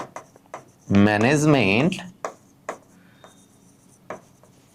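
A pen or marker scratches across a board in a few short, separate strokes with quiet gaps between them, close by, while someone says a word partway through.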